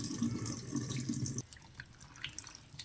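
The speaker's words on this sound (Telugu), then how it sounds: "3 టైమ్స్ కడుగుతున్నారు ఎండు రొయ్యలు" Tap water runs and splashes as dried prawns are washed in a sink, a steady gush that cuts off halfway, followed by faint drips and small handling sounds.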